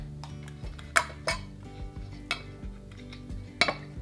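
Metal canning lids set onto hot glass jars of ham and bean soup, producing a series of sharp metallic clinks and taps at irregular intervals, with a few louder clanks, close and crisp without any talking.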